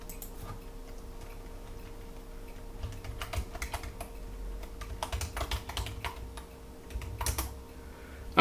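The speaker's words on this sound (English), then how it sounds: "I can type in "Hello World,"" Quiet, close clicking of a computer keyboard as a short phrase is typed into an online ASCII converter, soft irregular keystrokes over a faint steady hum.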